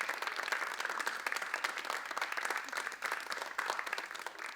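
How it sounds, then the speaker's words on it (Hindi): An audience at a Durga Puja stage show applauds with dense, steady clapping from a crowd, continuous and fairly close throughout. "हम मंच पर अब बुलाएंगे जोरदार तालियों के साथ सिरूपा वावगे, तितली रॉय और सुचेता रॉय को।"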